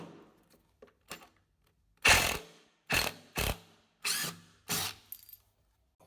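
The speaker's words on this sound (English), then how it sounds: "I'm just going to try and give them a go with the impact driver to get them out so I can get these battens free" A Ryobi R18ID2 18V cordless impact driver hammers at stuck screws in wooden battens, giving five or six short, loud, rattling bursts separated by brief pauses, close up and without speech.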